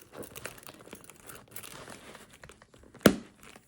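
A Coach Crystal Kisslock bag stuffed full is squeezed shut. Soft crinkling and rustling of its contents build up to one sharp, close metallic click of the kisslock clasp snapping closed, followed by quiet.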